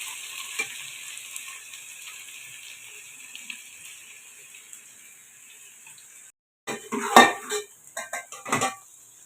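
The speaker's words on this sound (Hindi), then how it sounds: "भिंडी को जब भी फ्राई करना है इसका फ्लेम तेज़ रखना है।" Okra frying in oil over a high flame, a steady faint sizzle, then after a brief gap louder clattering and stirring of the pan with crackling bursts close by.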